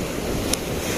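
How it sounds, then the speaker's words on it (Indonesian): Ocean waves surge against rocks along a coast in Pacitan, a constant loud wash of surf and wind noise filling the moment, with one brief sharp splash in the middle and no talking. "karena ombak-ombaknya itu ketika bertatapan dengan batu-batu"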